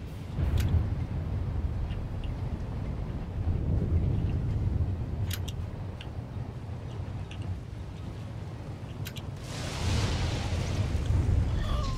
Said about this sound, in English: My apologies for the uber loud noise from the flying ship.